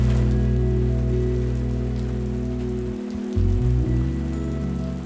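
Rain falls steadily on a campsite in Torres del Paine National Park, a constant patter layered over a loud low hum that dips briefly near the end.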